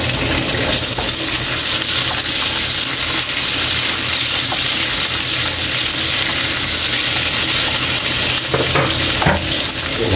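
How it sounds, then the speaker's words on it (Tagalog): Garlic sautés in hot cooking oil at the start of a Filipino dish, giving a loud, steady, close sizzle and crackle with no pause throughout. "Magigisa na tayo ng mantika. Bawasan lang natin yung kaili. Sige na pa. Tara kaili, mag-umpisa na tayo ng magigisa. Unahin lang natin kaili yung bawang."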